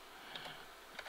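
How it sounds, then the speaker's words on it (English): Soft keystrokes tapping on a computer keyboard while working in desktop publishing software, a few faint clicks in a short, quiet burst with no talking. "continue to keep typing"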